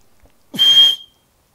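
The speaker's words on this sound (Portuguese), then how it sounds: "No meu tempo a gente fazia o apito." A single sharp, shrill blast from an old-style handmade toy whistle, loud and close, lasting about half a second.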